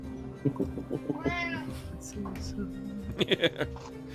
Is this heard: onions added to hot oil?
no